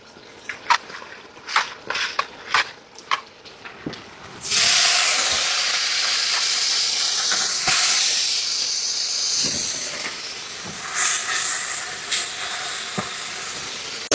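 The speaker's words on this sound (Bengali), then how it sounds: "এই সুন্দর গুড়া মাছগুলা এখন আমি ভাজি করব" A few sharp clicks and taps, then a loud burst of hissing sizzle as small fish hit hot oil on a clay stove, continuing steadily with occasional stirring scrapes and pops.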